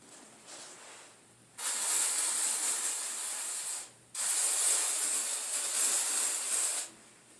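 Two long, loud aerosol bursts of Luster's Pink hair spray onto hair, each a broad steady hiss lasting about two and a half seconds, with a brief pause between them.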